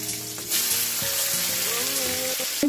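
Nigella seeds, green chillies and chopped garlic sizzling in hot frying oil in a pan, a steady loud crackling hiss with occasional clinks and stirring scrapes, no talking.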